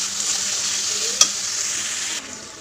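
Spices and potatoes sautéing in a wok, a dense continuous sizzle close up with one brief sharp clink of a utensil midway, no voices.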